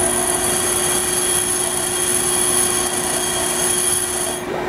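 A bench grinder grinds a fly cutting tool bit in a machine shop, a steady loud whirring hum with a constant high whine, running alone until it cuts off near the end.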